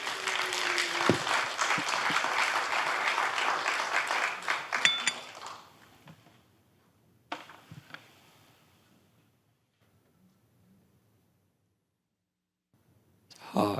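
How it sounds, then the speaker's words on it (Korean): A church congregation at a Sunday united worship service claps to welcome a professor to the pulpit. The applause is moderately loud for about five seconds, then fades into near silence broken by a few scattered sounds. "우리 박수로 교수님을 환영하겠습니다."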